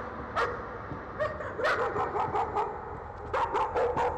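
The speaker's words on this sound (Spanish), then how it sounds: "Perros." Dogs in the horror video game Layers of Fear bark in rapid clustered yips and woofs, one burst after another, fairly close and loud with no talk.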